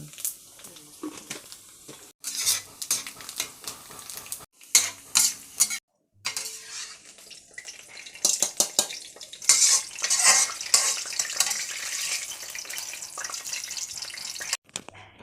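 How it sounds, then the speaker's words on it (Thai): Makwaen, Sichuan pepper, dry-roasting in a pan for buffalo larb, with bursts of spoon-on-pan scraping and stirring rattles separated by short pauses, fairly close and moderately loud. "ใส่บักแวนลงไปจ้าคั่วบักแวน"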